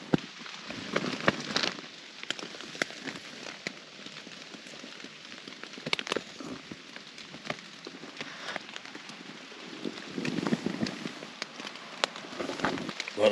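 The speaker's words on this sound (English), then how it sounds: "it's been raining heavy for" Steady heavy rain drumming on an REI Co-Op Quarter Dome SL 1 tent, with a dense patter and scattered louder drops hitting close by, continuing the whole time with no voices.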